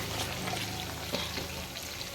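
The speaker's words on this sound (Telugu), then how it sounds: "ఇప్పుడు చేపల్ని తిరిగేసుకుందాం." Fish pieces frying in a pan for spicy fish pickle give off a steady, dense sizzle that stays loud and even throughout, with faint shifting crackles and no voices.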